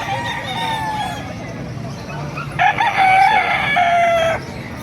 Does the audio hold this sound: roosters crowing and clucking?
yes